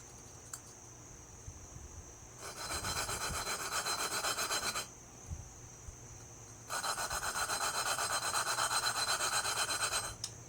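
Valves are lapped on a Briggs & Stratton 21 HP Intek engine, two sustained bursts of rapid gritty scraping and rubbing from abrasive compound, separated by quieter pauses with faint clicks.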